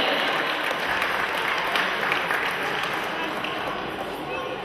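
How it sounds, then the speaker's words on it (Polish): An audience applauds at a youth football tournament award presentation, producing thick, continuous clapping that stays loud and even for several seconds, with some crowd voices mixed in. "brawa, ogromne brawa"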